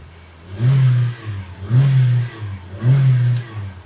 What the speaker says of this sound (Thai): ฟังเสียงเครื่องยนต์กันคุณผู้ชม